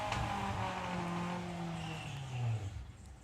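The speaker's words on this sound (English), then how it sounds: "That sounds like one of our Fords underneath us." A 1960s Ford Anglia drag car runs steadily underneath, a low, continuous engine drone with a slowly falling pitch, moderately loud in the distance with no talk over it.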